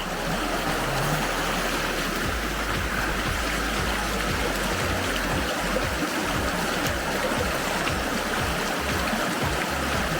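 A river rushes continuously at a crossing point in Skull Crack Canyon, a dense, steady churn of flowing water close by that fills the whole stretch with no voices.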